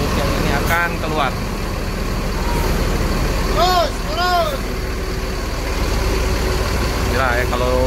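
Rosalia Indah bus engine idling and rumbling as the coach manoeuvres out of a crowded parking area, with a steady low diesel drone, air-brake hisses and people talking nearby.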